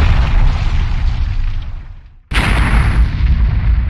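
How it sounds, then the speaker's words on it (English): A nuclear weapon detonates over Guam in the strategy game Superpower 2, a loud, sustained low rumble that dips almost to silence before a sudden, sharp blast resumes the heavy roar. "It does seem like this nuclear weapon will actually detonate over Guam."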